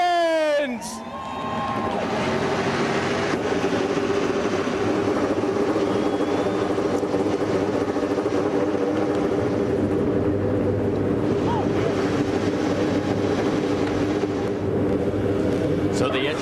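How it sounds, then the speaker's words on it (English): IndyCar race car engines fire up together on the starting grid, a dense, sustained roar of many engines that swells quickly and holds steady, with crowd noise and a voice faintly beneath. "So the engines have fired"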